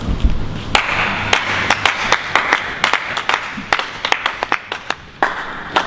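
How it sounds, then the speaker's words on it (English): A rowdy crowd at a live comedy show claps loudly in sharp, scattered bursts, with some hands striking close by over a low crowd murmur. "Rowdy crowd we got here tonight."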